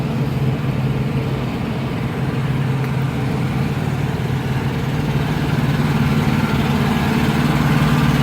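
A Kenworth T680 truck idles at a truck terminal in Laredo, Texas, with a steady low diesel rumble and a constant hum, close and unbroken.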